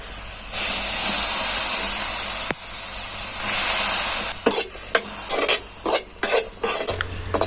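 Vegetables sautéing in a kadai with salt, turmeric and chili powder: loud, close hissing sizzle in long swells, then broken into quick bursts as the pieces are stirred and tossed.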